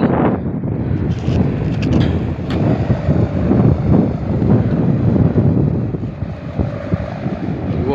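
Strong wind buffets an open outdoor spot where a kite is being flown, roaring loudly and continuously with gusty rumbling surges close to the microphone, no speech.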